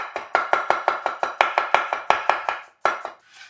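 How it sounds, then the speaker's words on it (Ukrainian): A knife slices four onions into half-rings on a cutting board, a rapid run of about fourteen crisp, evenly spaced chops, close and clear, pausing briefly before two final cuts. "І ось такими півкільцями порізали"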